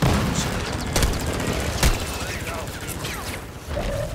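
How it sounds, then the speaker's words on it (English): Heavy gunfire in Call of Duty, a continuous loud crackle of mixed shots with several sharper, louder reports standing out, and faint talk mixed in. "Somebody shooting at us."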